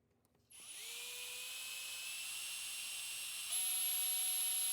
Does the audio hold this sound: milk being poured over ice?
no